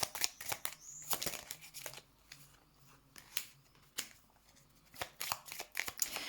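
Tarot cards are handled and shuffled close by in a series of crisp, irregular riffles and slaps, with quieter rustling between the bursts.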